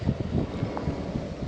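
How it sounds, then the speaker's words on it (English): Steady blustery wind buffeting the microphone in rainy conditions in Australia, a dense low rumble with gusty fluctuations and no voices. "windy conditions"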